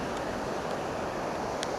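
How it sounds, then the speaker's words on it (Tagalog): Big sea waves rush and roar steadily at night on open water during night fishing, a continuous dense wash up close with wind mixed in. "Ang lalaki ng alon"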